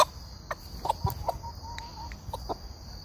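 A silky rooster and an Ayam cemani hen cluck close by in short, scattered bursts, several soft calls spread across a few seconds with light background rustling and no talking.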